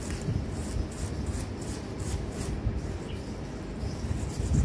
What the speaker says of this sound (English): This is done with a sandpaper to remove all the deposits which may have formed as a result of oxidation